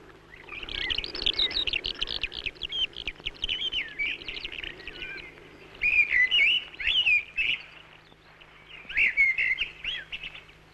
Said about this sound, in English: where the birds still go crying in the empty air, as they did before the Romans came